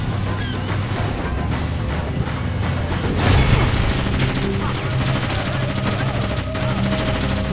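Rapid bursts of gunfire and automatic weapon fire from the Xbox 360 shooter Far Cry Instincts: Predator, dense and continuous with a heavier boom near the middle, over a steady game soundscape.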